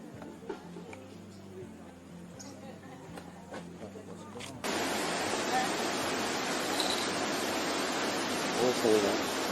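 A waterfall in Martinique or Guadeloupe gives a steady broadband rush that swells louder halfway through, with faint background sounds underneath before the roar takes over.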